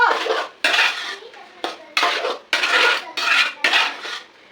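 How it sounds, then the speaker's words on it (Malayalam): Garlic and ginger are crushed in a kitchen, probably with a pestle, as a series of about seven sharp, close impacts in an uneven rhythm. No speech over it. "ഞാൻ പോയിട്ട് ഇഞ്ചി വെളുത്തുള്ളി ഒന്ന് ചതച്ചെടുത്തിട്ട് വരാം"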